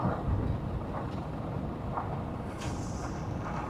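Steady, rushing wind roars and buffets the microphone throughout, loud and unbroken, with no voices.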